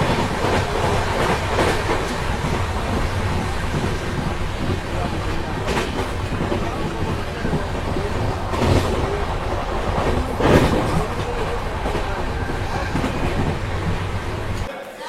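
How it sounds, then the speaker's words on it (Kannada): Intercity Express passenger train pulling into Arsikere Junction, a continuous close rumble of carriages with soft clickety-clack over the joints, a few louder clanks along the way, and faint voices in the background. "ಇದು ಸದ್ಯಕ್ಕೆ ನಮ್ಮ ಇಂಟರ್ಸಿಟಿ ಎಕ್ಸ್ಪ್ರೆಸ್ ತಲುಪಿದೆ ಅರಸೀಕೆರೆ ಜಂಕ್ಷನ್ ರೈಲ್ವೆ ಸ್ಟೇಷನ್ಗೆ"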